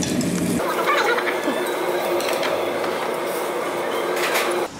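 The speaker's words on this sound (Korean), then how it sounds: "지하철 탔다." A subway train on the Gimpo line rides along with a continuous loud rumble and rattle throughout, cutting off sharply at the very end.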